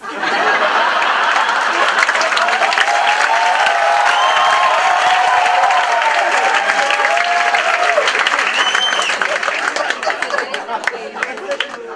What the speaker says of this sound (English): I don't know why you will applaud in classroom.